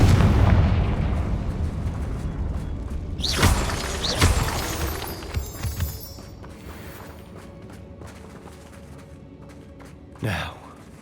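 A Confringo spell blasts in Hogwarts Legacy, a loud fiery burst with crackling debris around the 3–4 second mark, followed by scattered pops and a second sharp impact near the end over a rumbling game background.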